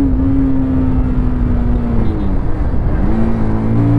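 A 2024 Bajaj Pulsar 220F motorcycle engine climbs in first gear toward high revs, its loud, close whine rising, dipping briefly at a shift point, then rising again over wind rush.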